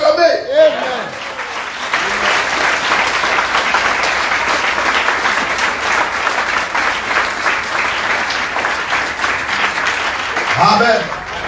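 A church congregation breaks into loud, sustained applause that fills most of the clip, with a preacher's voice heard briefly at the start and again at the end.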